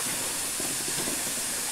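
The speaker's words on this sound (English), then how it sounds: "for some reason steam seems to be coming out of everything all the time" Steam hisses steadily from the Flying Scotsman steam locomotive, a loud continuous broadband rush with no pauses or voices.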